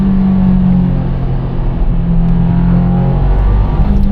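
A car engine under full throttle makes a loud, close, low droning rumble that holds steady with slight pitch shifts while the car accelerates.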